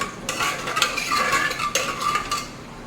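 A spoon stirs thick banana stem and lentil dal in a metal pot, producing scraping, clinking strokes against the pot's sides in an uneven rhythm, close and fairly loud with no talk.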